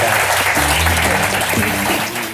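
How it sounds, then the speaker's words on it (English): A live audience claps loudly for a panel discussion, a dense wash of applause that stays full and then eases off slightly toward the end. "How about a round of applause for the"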